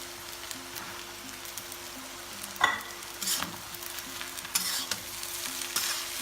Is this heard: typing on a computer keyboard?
no